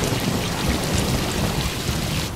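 Heavy rain pours steadily with a deep rumble of thunder underneath, a dense, loud wash of noise with no pauses.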